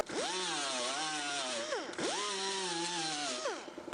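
A power tool grinds down welds on a metal patch panel, running in two steady loud passes with a brief dip in pitch between them.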